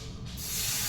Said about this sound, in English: We're gonna go ahead and slowly add the stock or the broth.